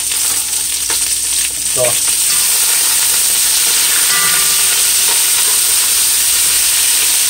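Zucchini sizzles and fries steadily in a stir fry for shrimp chow mein, a loud continuous hiss of hot oil with occasional stirring clatter, close up throughout.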